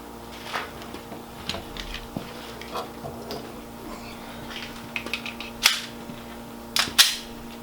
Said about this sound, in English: we're going to do another 10 and see if I can improve on the first 10 shots that I did.